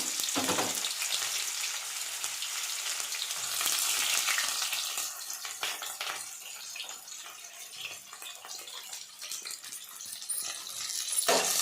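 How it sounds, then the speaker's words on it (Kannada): Whole cinnamon, cloves and pepper fry in hot oil for chicken biryani, giving a steady, close, fairly loud crackling sizzle that runs throughout with brief stirring noises and no talk. "ಫಸ್ಟ್ ಆಯಿಲ್ ಬಿಸಿ ಆದಮೇಲೆ ಚಕ್ಕೆ, ಲವಂಗ ಮತ್ತು ಮೆಣಸು ಹಾಕ್ತಾಯಿದ್ದೀನಿ"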